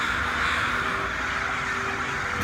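Crows cawing steadily outdoors in a city setting, a continuous chorus of harsh calls over a dense, fairly loud background with no speech.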